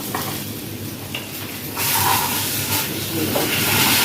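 Bread sandwich cooking in a sandwich maker: a constant close sizzle and hiss that swells louder about halfway through, with faint handling noises.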